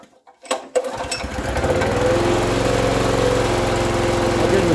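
A rusty Honda generator, just out of summer storage with choke on, cranks with a few pull-start bursts, then catches and settles into a loud, steady, close engine drone.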